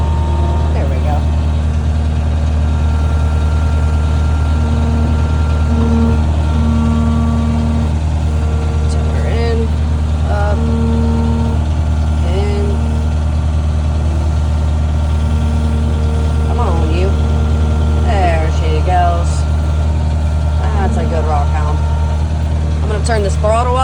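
A heavy Rock Hound machine's engine runs steady and loud nearby with the throttle raised, a deep continuous drone under a voice heard at times.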